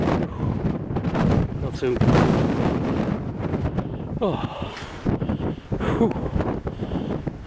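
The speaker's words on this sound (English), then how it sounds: "Some wind blowing down there." Wind gusts buffet the microphone outdoors on a moorland hillside, a steady rushing roar under people talking briefly nearby.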